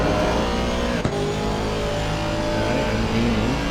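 A race car engine revs hard on a track exit, loud and close, with a sustained high-revving roar and no speech over it.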